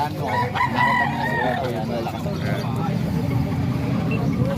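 Young gamecock stags at a rooster sale crow and cluck nearby in a busy mix, with people talking over the birds throughout.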